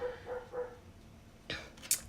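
A dog gives three quick, moderately loud barks in a row, then after a pause a couple of sharper yips, heard indoors at medium distance.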